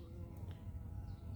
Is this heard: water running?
no